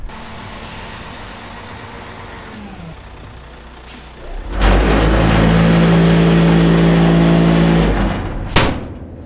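A brand-new tri-axle dump truck runs through a steady low engine rumble, then swells into a loud, close, sustained roar with a droning hum as it works to dump a load, ending in a sharp hiss.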